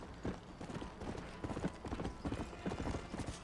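Horse hooves clip-clop in Red Dead Redemption, a steady, fairly quiet walking rhythm of soft thuds with no voices over it.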